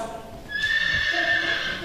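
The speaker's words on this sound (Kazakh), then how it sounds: "Жылқының дұрыс па балалар?" A horse whinnies once in a loud, close, rising-and-falling neigh lasting over a second, preceded by a brief muffled sound.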